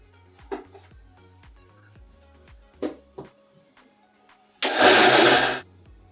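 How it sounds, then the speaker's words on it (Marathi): A kitchen mixer grinder grinds jaggery, roasted peanuts and cardamom in one loud, dense burst of about a second, preceded by a few sharp knocks and clatters of the jar being set up. "आणि परत एकदा मिक्सरला लावून घेते व्यवस्थित"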